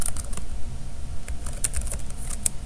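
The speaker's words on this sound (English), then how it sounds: "you can type in some Java code" Java code being typed on a computer keyboard, a quick irregular run of close, crisp key clicks with brief pauses, no voice over it.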